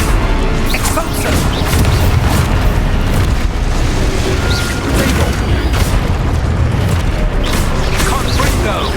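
Spell explosions in the Hogwarts Legacy video game, cast as Expulso: a continuous barrage of loud booms and crashes mixed with combat noise, with a voice speaking throughout.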